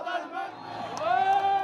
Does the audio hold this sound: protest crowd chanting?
yes